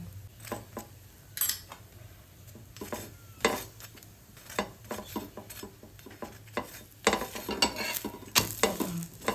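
A potato paratha roasts on a pan greased with ghee, giving a soft background sizzle punctuated by repeated sharp scraping and tapping of a spatula against the pan, close and moderately loud.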